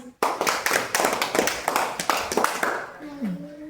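A group of second-grade schoolchildren clap together in a rapid, uneven rhythm of many close hand claps, ending as a voice begins speaking over the tail.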